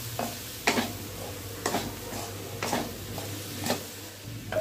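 A spoon stirs spiced mashed potato fry in a hot pan, giving soft rhythmic scrapes and clinks about once a second over a faint sizzle, close and quiet.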